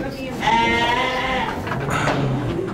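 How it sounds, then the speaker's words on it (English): A sheep bleats in a wavering, drawn-out call, then a shorter bleat follows, heard close along with some background voices. "It is a sheep."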